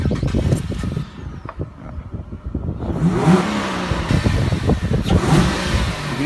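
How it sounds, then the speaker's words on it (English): A Ford FG Falcon XR6 with an induction growler kit revs repeatedly, its engine rising and falling loudly and close by with an airy intake note, and no one speaks. "I'll give it a start. Give it a rev."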